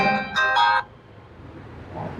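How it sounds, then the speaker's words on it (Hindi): Two short bursts of an electronic phone ringtone chime out close by, then fade into quiet room tone. "पापा तुम्हारे फोन कर रहे हैं।"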